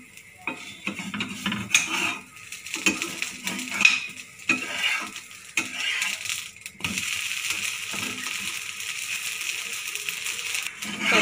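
A corn flour dosa being turned on a hot pan with a metal spatula: scrapes and clinks, then an even sizzle that carries on steadily, with no talking.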